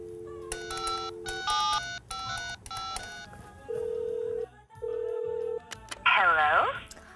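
A telephone call is placed: a rapid run of dialing tones, then two long, even ringback tones, and a brief chirpy burst as the line connects.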